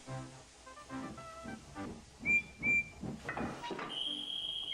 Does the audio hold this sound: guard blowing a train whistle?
yes